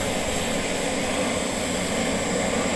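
A powerful gas burner roars steadily next to a small stove, giving a loud, continuous, even rush of flame noise with no pauses and no voices.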